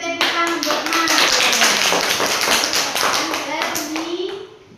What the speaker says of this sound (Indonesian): Kita tepuk tangan buat Marlen